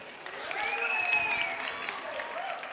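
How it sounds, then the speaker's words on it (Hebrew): Guests at a Jewish wedding ceremony applaud the couple with steady, dense clapping from a crowd lasting a few seconds, with a thin whistle-like tone briefly riding above it. "תעשו להם כפיים."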